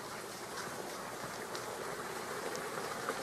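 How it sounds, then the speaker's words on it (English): A creek bubbles and trickles in a steady, fairly faint wash of running water, with small splashes standing out now and then. "Sounds like something's bubbling."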